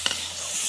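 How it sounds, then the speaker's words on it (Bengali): Eggplant slices with a little turmeric and salt frying in oil in a wok (kadai), giving a brief steady hiss with a couple of quick stirring taps near the start, no talking. "সুন্দর করে বেগুনটা আমরা ভাজে নেব"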